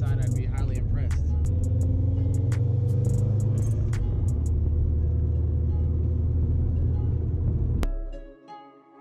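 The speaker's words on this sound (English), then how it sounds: "Now the inside of the car is a little noisy" Cabin noise inside a 2005 Subaru WRX STI while driving: a steady, loud low engine and road rumble that fills the car, ending abruptly near the close as the sound cuts to near silence.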